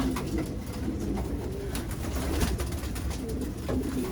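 Pigeons at a racing loft coo in low, murmuring layered calls that run steadily throughout, close and moderately loud, with a few brief fluttery bursts.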